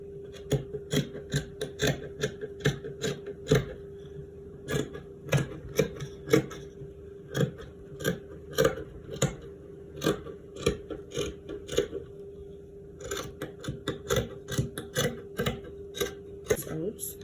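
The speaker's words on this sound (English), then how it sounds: "I'll go ahead now to cut this piece out." Scissors cutting through an Ankara fabric pattern piece, producing a regular series of crisp, close snips with brief pauses between runs of cuts.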